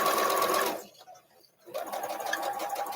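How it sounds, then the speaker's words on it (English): An electric sewing machine stitches an arrowhead quilt block in quick, rattling bursts, pausing for about a second before resuming at the same steady pace. "And you sew from the 2-inch line. You go down, turn the corner, sew off."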